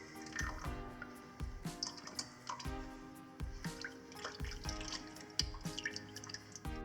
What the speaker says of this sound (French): Voilà, il commence à bouillir.